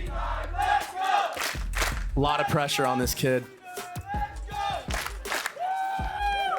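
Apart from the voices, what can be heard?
esports crowd cheering at Valorant match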